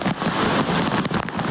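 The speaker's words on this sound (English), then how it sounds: "Raindrops from Tropical Storm Isaias tore it like daggers from above, making a wet, blunt force impact." Heavy rain from Tropical Storm Isaias pouring down during flooding in Berks County, Pennsylvania, a loud, dense, continuous hiss of drops pelting surfaces with brief sharper spatters.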